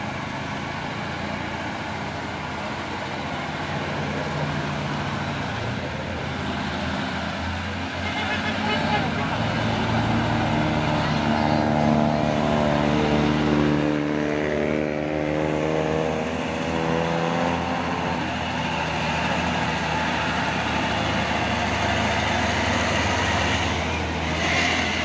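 Trucks driving and idling on a road, a steady broad engine rumble that swells and fades as vehicles move past, with people talking throughout.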